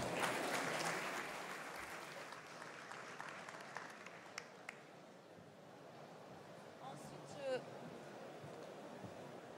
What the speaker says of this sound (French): Je vais vous demander d'applaudir bien fort Julien Villeneuve